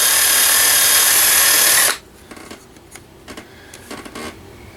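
A small power drill fitted with a tiny bit whines loudly and steadily for about two seconds, then stops abruptly, followed by faint scattered clicks and handling noises.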